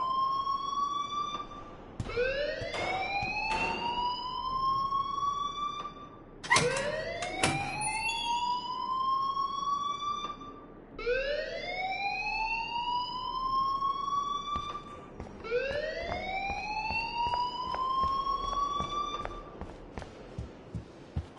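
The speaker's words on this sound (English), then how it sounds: "please turn off that alarm since that's your job" An electronic alarm in the video game Life is Strange wails in long rising sweeps that repeat about every four seconds, loud and continuous, with faint thumps in between.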